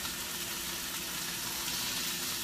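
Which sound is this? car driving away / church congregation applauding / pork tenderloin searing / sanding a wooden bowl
pork tenderloin searing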